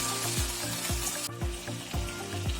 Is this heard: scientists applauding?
no